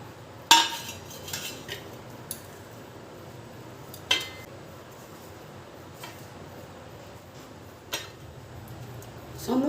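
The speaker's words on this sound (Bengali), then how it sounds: "এরপরে আমি এখান থেকে এরকম ছোট ছোট লেচি কেটে নেব" Knife clinking now and then against a plate or pan while chilled spiced potato filling for aloo chop is cut into small portions; sparse, light taps spread over a quiet kitchen background.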